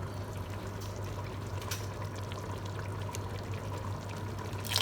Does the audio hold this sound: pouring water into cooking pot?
yes